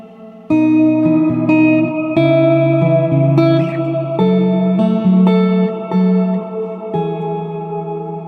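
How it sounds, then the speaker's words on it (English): Clean guitar chords ring out one after another, each note smeared into a long, washed-out reverb tail that blurs the changes together. "it's basically just a super washed out reverb"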